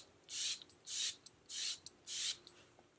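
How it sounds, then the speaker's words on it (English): A fine Chanel face mist is sprayed four times in an even rhythm, each a short, soft airy hiss close by with faint handling clicks between, and nobody speaking. "I'm going to go ahead and spritz the rest of the face."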